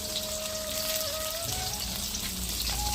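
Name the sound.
onions and curry leaves frying in oil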